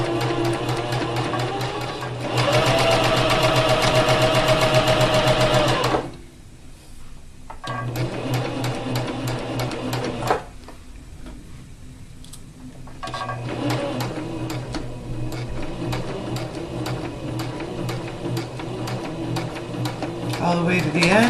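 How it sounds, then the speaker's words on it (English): Sewing machine stitching fabric in steady runs, loud and close, with a brief stop and pauses between bursts before it resumes. "Continue sewing."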